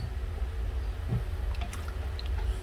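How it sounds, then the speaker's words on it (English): Kitchen tap water runs over a clean strainer, a low steady trickle with soft drips and light metallic taps, faint and close. "I got the water right above it just to rinse it off anyways, just for good measure."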